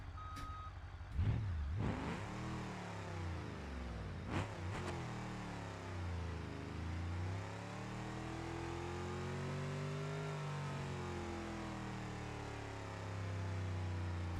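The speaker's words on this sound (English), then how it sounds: "Use that engine braking to our advantage here. This is all engine braking." Car engine braking on a road gives a continuous engine drone whose pitch sweeps down and rises again, with a couple of sharp bumps early on and no talk.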